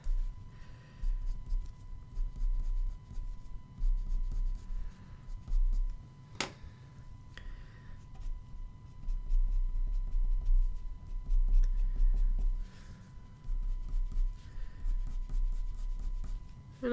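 A Prismacolor colour pencil scratches across paper in repeated short, close strokes, pausing now and then, with a sharp tap partway through; the scratching stays soft and intimate, with no talking.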